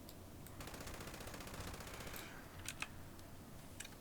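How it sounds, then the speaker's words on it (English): Rapid automatic fire from a submachine gun in the video game Fallout 76, a sustained burst of close, evenly spaced shots followed by a few sharper single cracks. "It's a submachine gun."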